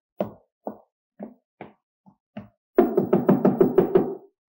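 In an old Turkish drama film, someone knocks on a door. Six spaced single knocks are followed by a rapid, louder burst of about eight knocks, close and sharp against silence.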